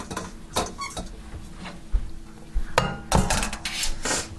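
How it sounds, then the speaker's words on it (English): Dry macaroni poured into a metal pot in a home kitchen, giving scattered rattling clinks and patters in uneven bursts, close and moderately loud with no talking. "I'm going to go ahead and put the macaroni in this pot"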